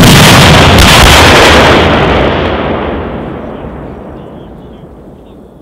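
An AT4 rocket launcher fires during a military live-fire exercise, a single loud, close blast that booms and then rolls away in a long fading echo.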